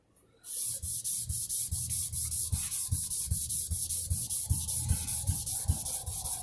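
Sandpaper is rubbed back and forth over a guitar body's finish in a fast, even rhythm of close, loud rasping strokes with no pauses, while the finish is worked toward a mirror shine.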